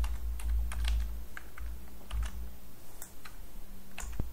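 Code being typed on a computer keyboard, a quick irregular run of close, crisp key clicks over a low background hum, with no talk.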